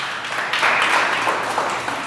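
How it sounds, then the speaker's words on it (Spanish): A church congregation applauds together, a dense patter of many hands that rises after a brief lull and holds steady at moderate loudness, heard from a little distance with no talk over it. "Un aplauso a Dios por la manita"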